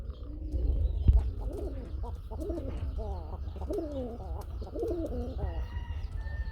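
Red Bombay pigeons, a pair offered for sale, coo in repeated low rolling phrases at close range, over a steady low background rumble.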